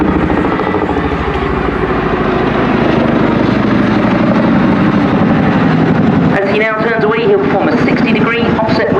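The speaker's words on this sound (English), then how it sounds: "Listen now as the aircraft closes towards you and the distinctive rotor noise gets louder." A Chinook helicopter at an airshow fills the air with a loud, throbbing rotor thump as it draws closer. The rhythmic chop sharpens toward the end.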